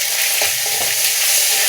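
Garlic paste fried with five-spice tempering in hot oil in a pan, a loud, dense, unbroken close sizzle with a few faint stirring taps underneath and no voices.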